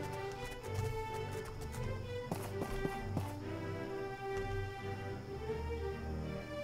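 A horse's hooves clip-clop steadily as it is ridden in the video game My Time at Portia, a light continuous patter mixed under ongoing background music.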